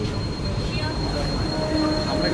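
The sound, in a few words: AC local train at Khardah station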